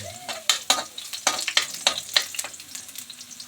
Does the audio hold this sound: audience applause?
no